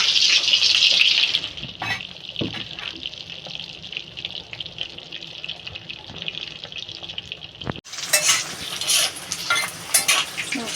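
Vegetables for shukto fry one by one in a pan, a steady sizzle with stirring scrapes and clinks, broken by a sharp knock, then a brighter, louder hiss of frying.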